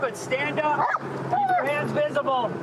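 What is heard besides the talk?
dog barking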